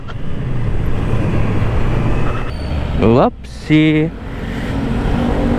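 Steady road and traffic noise inside a car driving home, a constant low rumble with a brief drop-out, as a person speaks a short exclamation over it.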